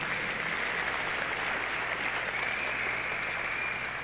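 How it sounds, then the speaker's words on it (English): Sustained, dense applause from a convocation audience for Attorney Claiborne, steady and loud throughout with no voices standing out. "Can we please give him another round of applause?"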